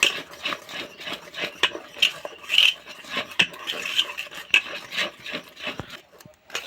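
Cake batter with baking powder being mixed in a bowl, a steady scraping and rubbing of a utensil against the bowl with irregular clinks and taps, close and fairly faint, with no talk.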